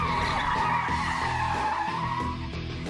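Car tires skid and squeal during a security driving exercise on a road, a loud sustained screech over a revving engine lasting several seconds.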